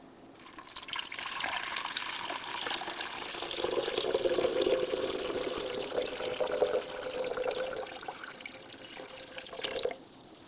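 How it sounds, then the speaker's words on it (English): Hot and cold water pouring into a 2-liter glass beaker split by a foam-core divider, a steady splashing, gurgling stream that runs close and fairly loud for about ten seconds before stopping. "I'm going to pour them into this 2-liter beaker"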